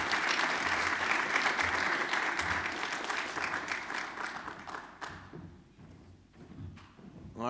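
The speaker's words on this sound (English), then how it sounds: "give one more round of applause for all of our distinguished leaders" An audience at a daylong program on freedom of religion applauds, steady dense clapping that thins and fades toward the end.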